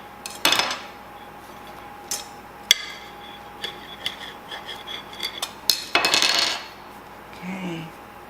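A knife saws through a warm, crusty loaf of air fryer bread, giving a few sharp, crackly crunches in separate bursts, close and fairly quiet, with no talking.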